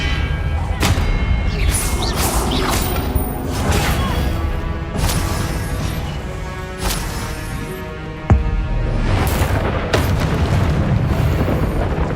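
Expelliarmus spell cast during combat in Hogwarts Legacy, a loud whooshing blast amid booming, crashing battle effects and a dense rumbling background, with sharp impacts scattered throughout.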